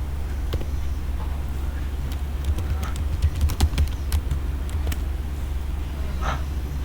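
Someone types a spreadsheet quartile formula on a computer keyboard. Scattered light key taps, with a brief quick cluster in the middle, sit over a constant low hum.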